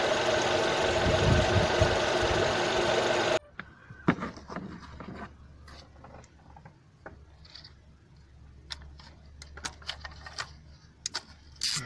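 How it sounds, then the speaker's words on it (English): An engine with a P0010 variable valve timing fault drones loud and steady, then cuts out abruptly, leaving a quieter idle with irregular ticking and clattering knocks. "you'll hear the engine change its tone"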